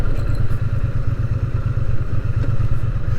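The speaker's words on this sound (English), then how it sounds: "in 2022, I got this Triumph Bonneville, and I love this bike" A Triumph Bonneville motorcycle engine drones steadily while riding on the road, with a close, loud, throbbing exhaust pulse and some rushing wind noise throughout.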